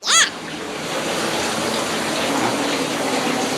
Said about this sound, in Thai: เดี๋ยวรอน้ำเต็มถังก่อนครับ